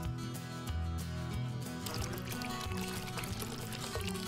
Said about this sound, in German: Und gießt kochendes Wasser hinein.